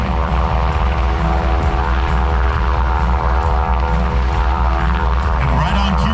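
A Coast Guard rescue aircraft holds overhead during a rescue demonstration as its crew lowers a litter, its loud continuous engine and rotor roar filling the air with a dense, pulsing drone.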